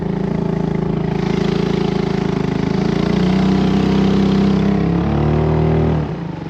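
A small boat outboard motor drones steadily and loudly up close on a reservoir, its pitch shifting slightly before it cuts back near the end.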